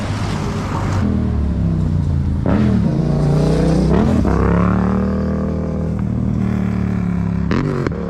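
A car drives past on a road near a colorful bus stop and turns off toward Lover's Leap in St. Elizabeth, Jamaica; a steady engine hum rises and falls as it goes by, fairly close, with no talk over it.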